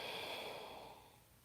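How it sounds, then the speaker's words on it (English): Slow, deep exhalation during a yoga hold, a steady breathy airflow that starts strong and fades gradually, close and alone with no talking. "steady deep breathing"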